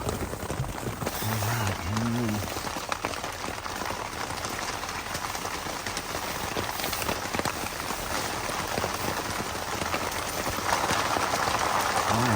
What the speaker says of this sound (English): This rain ain't letting up, and I'm wet.